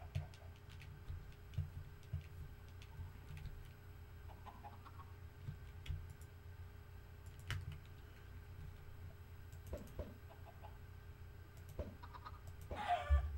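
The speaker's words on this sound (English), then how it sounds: "No! Chicken!" A chicken in the Minecraft Skywars minigame on Mineplex clucks in short, faint bursts over a steady low game hum, with scattered clicks and a sharper squawk near the end.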